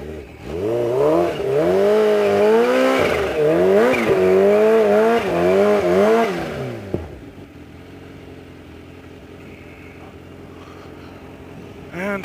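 An extended Kawasaki Ninja H2 motorcycle doing a tire-cleaning burnout at a dragstrip: a loud, close engine revs up and down repeatedly with squealing rubber for about seven seconds, then cuts off abruptly, leaving a faint idle and background noise.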